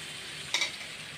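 A vegetarian curry mixture sizzles softly in a pan, with one quick scrape of a spoon stirring it, faint and close, no voices.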